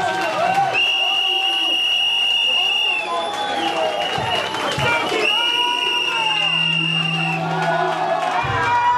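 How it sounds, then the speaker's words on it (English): A political rally crowd cheers and shouts for Dr. Samura Kamara of the APC. Loud, sustained whoops and voices fill the space, with drawn-out tonal calls rising above the crowd noise and people talking throughout. "please let's give a round of applause to Dr."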